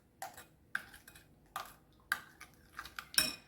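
A utensil mixes and mashes butter into dough in a bowl, giving a steady run of light clinks and taps against the dish, roughly one every half second, close and fairly quiet with no talking.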